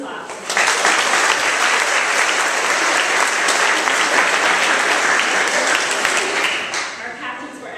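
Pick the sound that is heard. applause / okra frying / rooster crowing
applause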